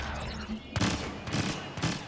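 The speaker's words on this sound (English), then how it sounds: "I love the EE3, but at the same time I hate the EE3." An EE3 blaster fires in a video game, three quick bursts of rapid shots about half a second apart, fairly faint.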